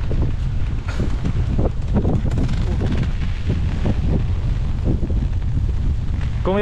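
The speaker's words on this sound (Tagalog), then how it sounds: "Sobrang lakas ng hangin." Strong typhoon wind roars and buffets the microphone in a constant loud rumble with gusty thumps, and faint voices are barely audible beneath it.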